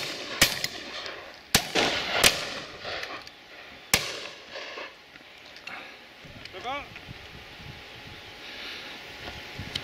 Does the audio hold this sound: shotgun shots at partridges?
yes